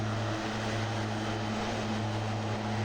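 Steady, droning airplane engine from Microsoft Flight Simulator, a constant propeller-like hum with tonal low bands holding evenly without breaks.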